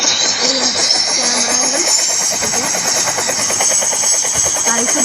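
A helicopter engine starts up in a video game prison escape, producing a loud, steady mechanical whine and rising rotor hum that runs continuously throughout at close range.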